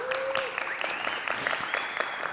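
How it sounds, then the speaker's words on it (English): Audience applause rises at a tech conference, a dense patter of many hands clapping steadily for a couple of seconds, with faint sustained tones underneath. "Round of applause to all of you."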